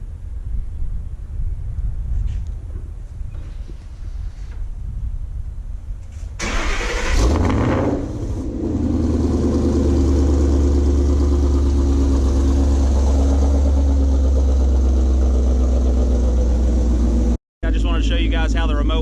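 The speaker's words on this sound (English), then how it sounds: "how I start the car with it" A manual Ford Mustang started by remote start: a quiet stretch with talk, then the engine cranks and fires with a sharp rev before settling into a loud, steady idle close by.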